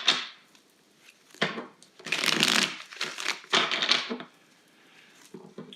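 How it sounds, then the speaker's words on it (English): Tarot cards are shuffled and pulled from the deck in several quick riffling bursts with short pauses between, close and fairly loud with no talking. "let's get right into pulling out your cards for the week"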